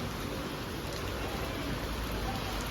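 A full, steady downpour falls in Tuljapur, a constant broadband wash of rain striking the ground nearby, unbroken throughout.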